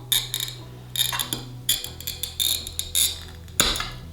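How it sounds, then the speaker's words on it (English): A steel-wheeled glass cutter scores stained glass in short, crisp scratching strokes, several quick bursts in irregular rhythm, close and fairly quiet over a low background hum. "I'm going to go in lightly pressing, and most importantly, listening to the score"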